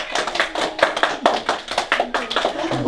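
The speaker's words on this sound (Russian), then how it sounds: "Аплодисменты!" Rhythmic group clapping at a children's birthday party, a run of distinct, fairly close claps in a quick irregular beat, with small voices and taps mixed in.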